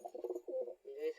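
Pigeons shut together in a box give a run of low, throaty coos, close and fairly soft, with brief pauses between the rolling notes.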